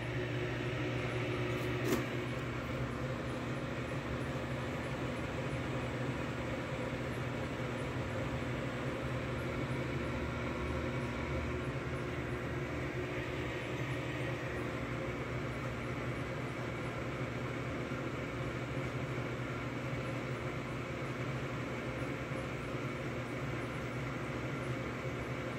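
A vintage Sharp microwave oven runs while cooking, giving a steady, low electrical hum and fan drone that holds at an even level throughout, with one faint click near the start.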